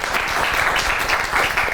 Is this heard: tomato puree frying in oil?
no